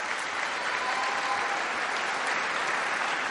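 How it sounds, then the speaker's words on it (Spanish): An audience applauds the electoral authorities at a 2012 commemoration of the Sáenz Peña Law in Argentina, with dense, steady clapping from a large crowd filling the whole stretch. "así que también vaya un aplauso para las autoridades electorales"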